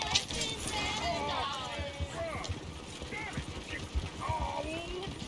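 Horses in Red Dead Redemption 2 clatter along with hoof clip-clop and jangling tack in a busy town street, steady throughout while game characters talk over them.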